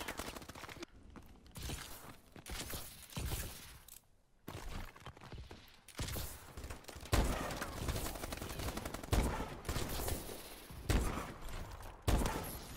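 Video game gunfire crackles in dense repeated bursts, loud and continuous, with heavier thumping shots near the end and no talking.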